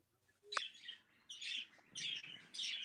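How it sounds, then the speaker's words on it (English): Outdoor birds chirp in the background of a workshop setting. Bright, repeated tweets and short trills come in bursts, clear but moderately distant, with no talking over them. "Some birds in the background."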